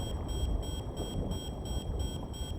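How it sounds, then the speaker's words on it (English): A repeated alarm beeps steadily in the video game Tales of Arise, pulsing in an even rhythm over a dense, constant background rumble, with no talking. "Beep, beep, beep, beep, beep. Can we turn that off?"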